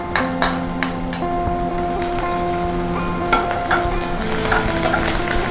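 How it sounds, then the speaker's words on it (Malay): Chopped garlic fries in two to three spoonfuls of oil in a pan, giving a steady, dense sizzle with occasional clinks and scrapes of stirring, close and alone without any talk. "jom kita masukkan minyak 2 hingga 3 sudu. Masukkan bawang putih yang sudah dicincang."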